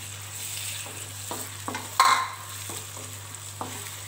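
Tomato paste being sautéed with onions and ginger-garlic paste in a pan for chicken biryani, with a gentle steady sizzle, a few soft stirring scrapes and a brief louder splutter partway through, no talking.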